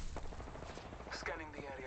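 Rapid video-game gunfire in a squad shooter match crackles in dense bursts throughout, with a voice speaking briefly over the shots.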